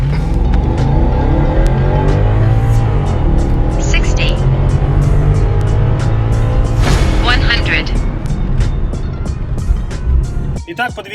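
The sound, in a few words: BMW E53 4.8i V8 N62 with sport headers accelerating 0-100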